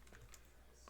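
A computer keyboard used to type PHP code: a few soft, quick keystrokes close by, ending in one sharper click.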